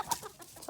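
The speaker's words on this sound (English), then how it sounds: "We have a couple chickens here who escaped from their pen" Escaped backyard chickens give a quick, faint cluck or two close by, a short soft burst of fowl calls with nothing else around.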